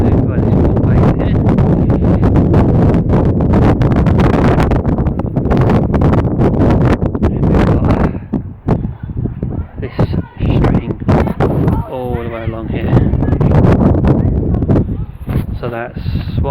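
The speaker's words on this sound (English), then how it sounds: "the wind is just picking up" Gusty outdoor wind buffets the microphone in loud, rushing bursts, easing and returning, with someone speaking partway through.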